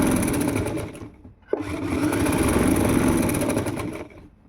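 A sewing machine stitching ladies' palazzo pants, a close, loud, fast steady whirr that stops briefly, then runs again with a sharp click before winding down.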